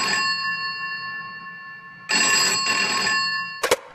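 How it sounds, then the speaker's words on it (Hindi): A landline telephone rings in a hotel room, two bursts of a bright electronic ring separated by a short pause, loud and close, followed by a sharp click. "इससे पहले कि प्रिया कुछ सोच पाती उसके कमरे का लैंडफोन बजा।"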